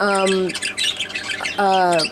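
A pet bird squawks in a breeding shed: two loud harsh squawks with stacked, bending tones at the start and end, close by, with chattery chirping between them.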